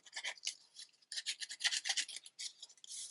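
Card surface being scuffed and roughened by hand for texture, a series of short dry rasping strokes in bursts, close and fairly quiet, with no talking.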